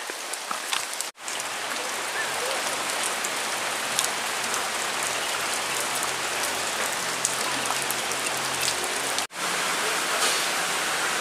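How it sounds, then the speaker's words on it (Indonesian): Rain pours down outdoors during a fishing trip, a loud, constant hiss with scattered drops pattering on surfaces and two brief cuts in the sound. "Malah hujannya datang."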